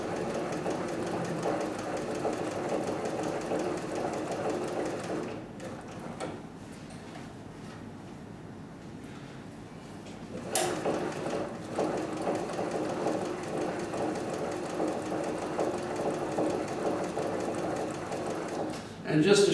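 A leather-sewing machine with top, bottom and needle feed runs in a steady mechanical whir of rapid stitching, pausing briefly midway before resuming, while someone talks over it.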